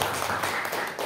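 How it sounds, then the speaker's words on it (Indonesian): Audience clapping at the close of a school talk on positive culture, a steady dense patter of many hands lasting about a second, fairly even in loudness with no voices over it. "Beri tepuk tangan dulu kita."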